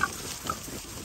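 A single short, low pig grunt sounds close by against a faint background, lasting about a second with no voices.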